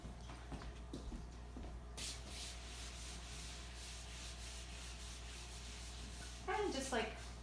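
A felt eraser rubs across a classroom board in a few short scrubbing strokes, faint beneath a steady room hum, with a brief louder burst of rubbing near the end.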